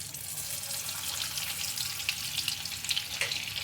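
Oil and butter heat and sizzle in a kadai for kadai paneer, a soft, steady hiss with faint crackles and no talking.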